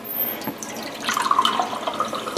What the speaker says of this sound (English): I'm gonna put 2 more ounces of water.